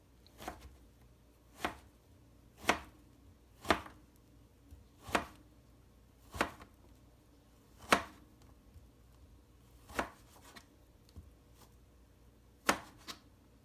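A knife cuts vegetables into julienne strips on a board, making about a dozen crisp, evenly spaced chops roughly one second apart, close and clear with no talking.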